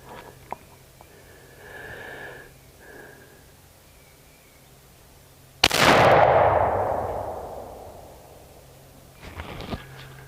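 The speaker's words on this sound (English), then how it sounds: "I'm going to shoot the pallet with this first round." A Knight .50 caliber black powder muzzleloading rifle fires a single round at a wooden pallet: one sudden loud blast with a long, rolling decay, set against quiet surroundings with a few faint sounds before and after.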